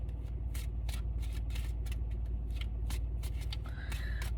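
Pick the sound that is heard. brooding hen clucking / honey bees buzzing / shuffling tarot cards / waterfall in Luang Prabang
shuffling tarot cards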